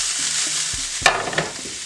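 Tofu browns in a hot pan with a bright hissing sizzle, steady and close, interrupted by one sharp scrape or clatter near the middle; no voices.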